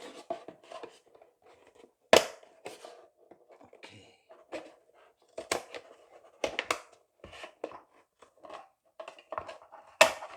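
Scissors snipping through a plastic detergent container, irregular bursts of crisp cuts and crackling plastic with several sharp loud snaps, close and without talking.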